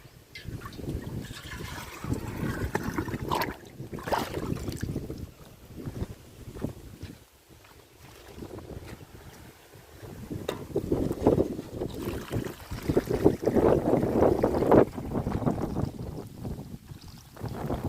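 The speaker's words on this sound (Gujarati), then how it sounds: "પવન બહુ આવે." Strong wind gusting across an open farm field near Lalpur, a steady, rough rumble that swells and buffets the microphone in waves, loudest toward the end, with no one speaking.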